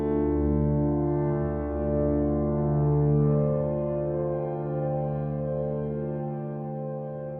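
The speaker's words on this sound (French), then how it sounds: "Ok, c'est un son de piano, et en même temps, c'est pas un son de piano." A Native Instruments Noire piano preset yields an unusual processed piano tone: sustained, layered harmonic drones that swell and shift slowly, a steady resonant wash with no separate hammer strikes, heard alone and fairly soft.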